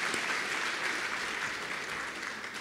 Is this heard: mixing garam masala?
no